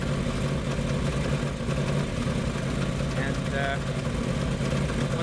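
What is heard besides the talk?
woodgas truck engine idling, running on wood gas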